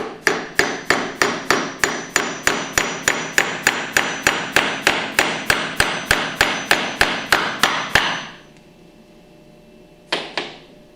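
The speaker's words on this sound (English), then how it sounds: "tap it in with a hammer gently until you feel it bottom out" A hammer gently taps a part into the cam bearing of a Hypro 5400 piston pump, about two dozen sharp metallic strikes in an even, steady rhythm, then a pause and a final short tap or two.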